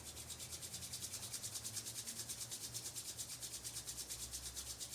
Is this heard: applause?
no